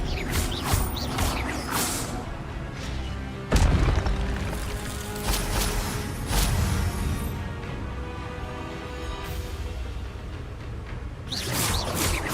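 The Expelliarmus spell in Hogwarts Legacy lands as a sharp booming impact with whooshing magical bursts and mechanical creaks, with several hits spread across the stretch at fairly loud game volume.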